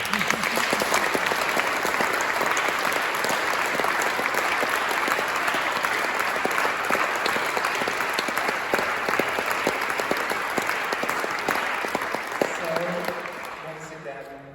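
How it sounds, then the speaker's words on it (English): An audience at a King's Award for Voluntary Service ceremony gives a long, sustained round of applause, dense even clapping filling the room before tapering off at the end. "And I think that deserves a round of applause"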